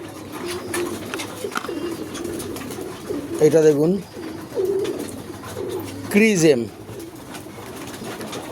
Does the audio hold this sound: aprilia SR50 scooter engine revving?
no